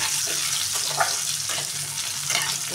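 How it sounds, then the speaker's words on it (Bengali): Chopped gati kochu (taro) frying slowly in a pan with salt, a steady close sizzle with occasional stirring scrapes and soft bubbling, no talking. "কাটে কুচিটা আমি আস্তে আস্তে ভাজবো"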